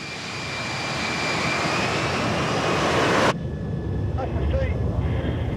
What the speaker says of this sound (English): Launch the jet.